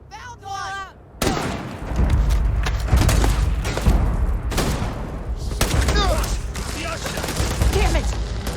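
Gunfire in the space video game Starfield: sustained rapid bursts and heavy booming shots fill the scene, with shouted voices over the din.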